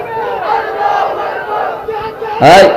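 Large crowd at a Bangla Islamic sermon gathering in Bogura roaring a loud unified response to a takbir call, a sustained chanted shout that swells and ends in a sharp final burst.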